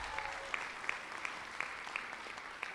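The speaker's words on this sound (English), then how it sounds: "you all deserve a round of applause" Distant graduation and white coat ceremony crowd applauds, a faint, even wash of clapping with a few sharper individual claps standing out.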